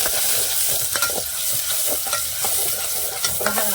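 Onions sizzle steadily in hot oil in a pot over a wood-fired stove for a Dhangar-style dry chicken dish, with scraping stir strokes clattering through a dense, continuous frying hiss, close and fairly loud with no talk.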